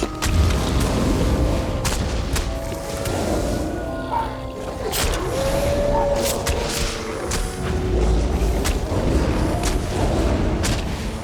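Werewolf combat in the video game Elder Scrolls Online, a dense, loud barrage of heavy booming impacts and crashing hits with sharp strikes, continuous throughout, layered with game effects.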